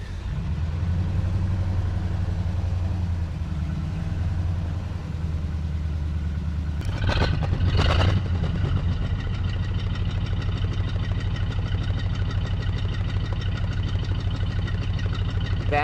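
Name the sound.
1936 Ford Roadster flathead engine idling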